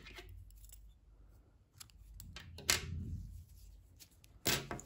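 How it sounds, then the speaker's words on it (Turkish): Scissors snipping knitting yarn after finishing a round of a knitted sleeve, a few crisp metallic clicks and cuts close by with soft handling rustle between them, no talking. "İpliği kesiyorum"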